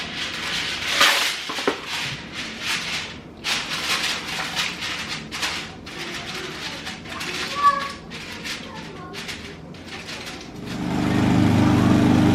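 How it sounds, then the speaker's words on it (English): A lawn mower runs outside in a yard, heard as a steady drone swelling up near the end after a stretch of clattering household noises and voices. "He's out mowing right now."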